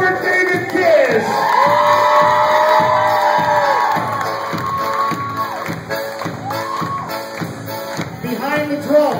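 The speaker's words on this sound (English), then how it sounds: "Give a nice round of applause for David Kiss." An audience at a polka show cheers, whoops and shouts loudly to welcome drummer David Kiss, with excited crowd voices rising and falling and bursts of yelling over the noise.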